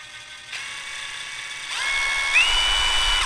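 A DeWalt 1/4-inch brushless impact driver whines at rising motor speeds as its variable trigger is squeezed further, stepping from a lower hum to a louder, higher-pitched spin over a few seconds.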